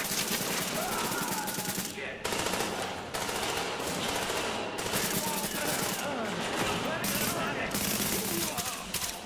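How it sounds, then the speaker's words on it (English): Automatic gunfire in the Tom Clancy's The Division shooter game inside Grand Central Station, rapid machine-gun bursts rattling in repeated volleys with short gaps between them, loud and close, under a faint radio-style voice. "Reporting gunfire in the station above us."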